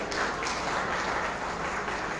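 A crowd at a school award ceremony in Taranagar applauds in a steady, dense wash of clapping that carries evenly from start to end.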